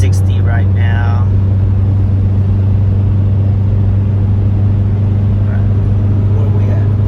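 A 1999 Honda CR-V with a B20 engine, overheating and leaking oil, being eased gently up to highway speed, its low steady engine and road drone heard from inside the cabin, loud and unbroken.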